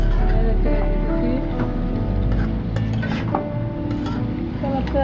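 Pointed gourd frying in a pan, stirred with a utensil that clinks and scrapes against the metal over a steady low sizzle, with a few sharper knocks from the spoon.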